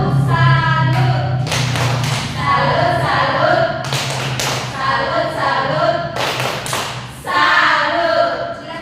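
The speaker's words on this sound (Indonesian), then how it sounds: "Kita tepuk salut untuk mereka kelompok 1." Classroom students clapping a rhythmic salute for a group of presenters, sharp claps in short bursts over a steady low hum, with voices and a teacher talking in between.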